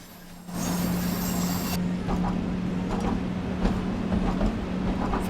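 In the Train Sim World 5 game, a BR 112 electric locomotive rumbles steadily while its wheels clatter over track switches in a run of repeated clacks under a constant hum.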